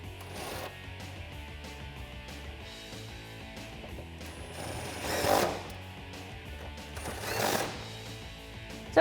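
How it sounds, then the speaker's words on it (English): Ratcheting socket wrench with a 10mm socket tightening parking brake hardware on a Jeep Wrangler JK, close clicking mechanical ratchet sounds with a couple of louder bursts, no talking. "Tightening that up with a 10mm socket."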